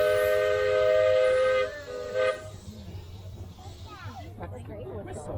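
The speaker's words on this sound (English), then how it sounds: "There's a train coming." Miniature steam train on the Redwood Valley Railway in Tilden Park, its loud steady whistle sounding nearby for over a second and a half with a second short toot, then train noise and people talking in the background.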